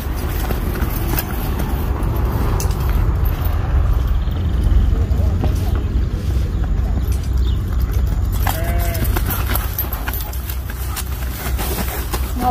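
Horse hooves clip-clop as a horse is ridden around at an outdoor horse fair in Cupira, Pernambuco, under constant crowd chatter and nearby talking, with livestock noise mixed in.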